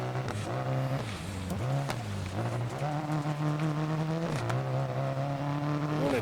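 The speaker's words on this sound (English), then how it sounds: "you can hear the engine having some issues. I think we might have dropped a cylinder" A rally car engine in the Dirt Rally video game sputters and misfires as if it has dropped a cylinder, revs rising and falling unevenly with rough pops and dips across an off-road run.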